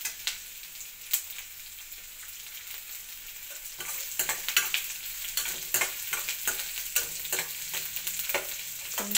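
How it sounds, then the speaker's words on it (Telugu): Onions and tempering seeds crackle in hot oil for a ridge gourd curry, a continuous sizzle broken by repeated sharp scrapes and clatters of stirring, close and moderately loud. "పోపు పెట్టాను, పోపు గింజలు వేసాను, ఉల్లిపాయలు వేసాను."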